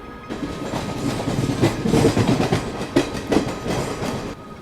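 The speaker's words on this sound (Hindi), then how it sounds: "ये बीच में आई train number 12602 Mangaluru central Chennai central express" Train 12602, the Mangaluru Central–Chennai Central Express, passing close by with a loud steady rumble and rhythmic clickety-clack of wheels over rail joints.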